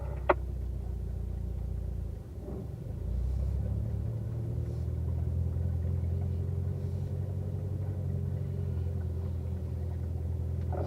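At Spring Mountain race track, a car's engine rolls gently onto the throttle, a steady low rumble that swells slightly after a brief dip and then holds smooth and even, close and without voices.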